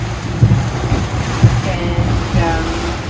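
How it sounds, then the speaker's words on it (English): Strong wind of 20 to 30 knots roaring over a sailboat at sea at night, with steady low rumble, gusty buffeting and wash of water, close and loud, with a few faint voices. "It's a pretty wild and windy night. 20 odd knots, let's be up to 30."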